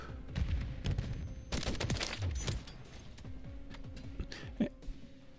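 Bursts of gunfire from a weapon fitted with the Jawbreaker kit in Call of Duty: Modern Warfare 2, loud and close, with rapid shots and booming impacts in clusters, alone without talk.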